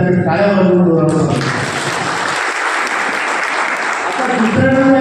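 A pension-workers' gathering breaks into loud clapping, a sustained round of applause rising between stretches of someone speaking before and after.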